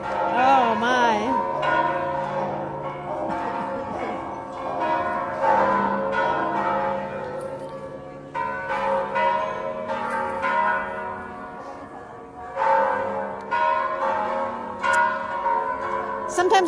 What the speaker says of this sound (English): I can't imagine you not hearing all the bells right now.